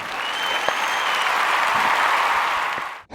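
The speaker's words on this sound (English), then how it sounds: "So give my girl a round of applause for that" A crowd applauds steadily, dense clapping at a constant level for a few seconds before cutting off abruptly.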